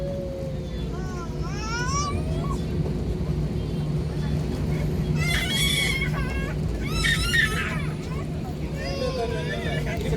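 A SriLankan Airlines jet taxies on the airport apron, heard from inside the cabin as a steady low engine drone and rumble, with announcements and passenger voices over it.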